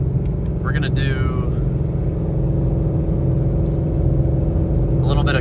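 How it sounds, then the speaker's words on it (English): A car fitted with a Roush exhaust cruises on the highway at about 76 mph in 10th gear, a steady deep exhaust drone with road rumble throughout while someone talks over it. "a little bit of casual highway driving here"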